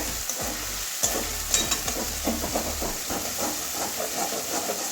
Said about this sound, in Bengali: আরও একটু কষাবো মশলাটা